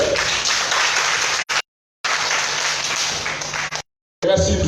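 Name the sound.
audience applause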